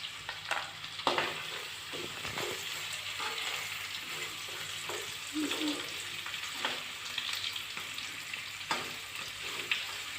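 Whole cumin seeds fry in a pan as the base for an Assamese fish head curry, giving a steady soft sizzle with scattered crackles and light scrapes, moderately close and without talk.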